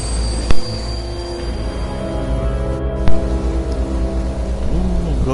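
A train running in the video game Beyond: Two Souls: a steady rolling rumble with sustained squealing wheel tones and a couple of sharp metallic clanks, fairly loud.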